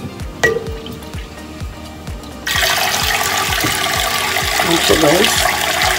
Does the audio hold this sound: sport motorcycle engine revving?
no